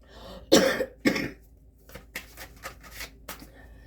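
Two loud, harsh coughs close to the microphone, followed by softer rustling and small throat sounds in a quiet room.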